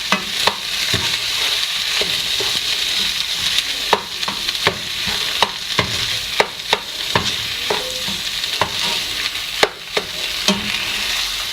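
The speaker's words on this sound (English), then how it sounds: "Now mix them well." Samosa stuffing being mixed with turmeric, chaat masala, salt and chili powder: steady rustling scrape of the filling with a string of sharp spoon clicks and knocks against the bowl, close and continuous.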